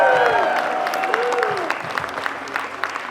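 A magic show crowd bursting into applause after a card trick, with sustained clapping and cheering that slowly tapers while music plays underneath.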